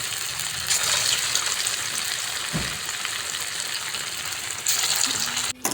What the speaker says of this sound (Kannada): ನೋಡಿ ಚೆನ್ನಾಗಿ ಫ್ರೈ ಆಗ್ತಾಯಿದೆ